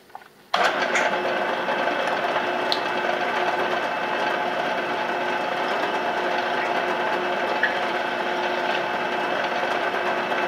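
A power tool cutting and chamfering metal for a keychain tripod, starting abruptly and then running as a continuous high-pitched whine, close and steady throughout.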